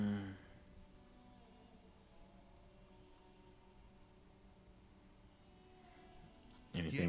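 Steady rain in the video game Disco Elysium, a soft continuous patter held at an even level, with louder bursts at the very start and end.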